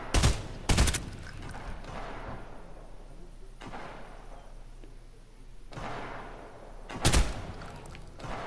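Gunshots in the video game Fortnite: a few sharp, loud bursts near the start, another around seven seconds, and broad ambient game noise between them, with no one speaking.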